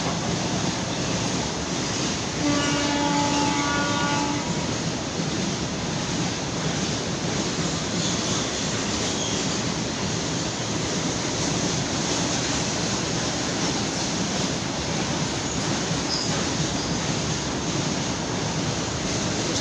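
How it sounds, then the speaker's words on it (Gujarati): A long freight train of loaded tanker wagons rumbles steadily past in a continuous roar of wheels and wind, with a brief horn-like tone early on. "રોયલ ટેન્કર્સની ભરેલી આ ટ્રેન મિત્રો"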